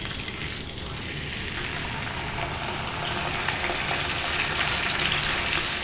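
Steak laid into hot oil in a pan, giving a steady broadband sizzle that swells slightly louder partway through and keeps on, close and continuous with no talk.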